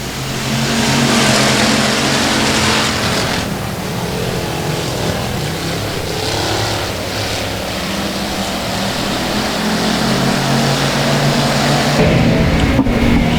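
Factory stock race cars at Boothill Speedway roar together in a dense, loud wall of engine noise, with revving and pitch shifts as the pack circles, continuous throughout with no voices.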